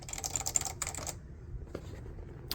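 Typing on an Apple AEKII mechanical keyboard, a quick run of crisp, clicky keystrokes up close, then a pause and a few scattered presses.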